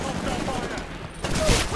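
Automatic weapon fire in Titanfall rattles on continuously as a dense, steady stream of shots, mixed with a voice talking over it.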